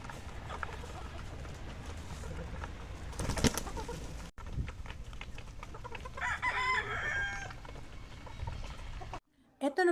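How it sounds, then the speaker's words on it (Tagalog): Chickens cluck and young gamefowl roosters crow in a range area on a game farm, over a steady outdoor background, with bird calls in a busy, noisy yard. "Nakakatuwa ang mga baby stag namin na nasa range area dahil malalaki na talaga sila"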